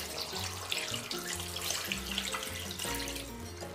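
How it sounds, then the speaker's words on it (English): Water pours steadily from a tap into a pot while ugu soup is being prepared, a continuous close splashing stream with shifting tone as the level rises, no talk. "I'm gonna be adding a generous amount of water."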